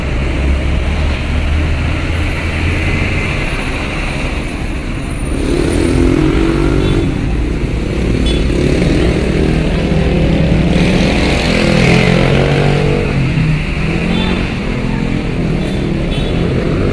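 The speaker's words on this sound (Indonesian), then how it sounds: "Kendaraan motor banyak sekali ya." Many motorcycles and vehicles rumble aboard a ferry's upper deck at Bakauheni port, a steady loud engine drone with swelling passes and faint talk underneath.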